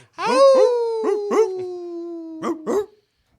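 A man mimics a dog with his voice, giving a run of close, loud yelping barks that slide into a drawn-out howl, then two more quick barks before stopping.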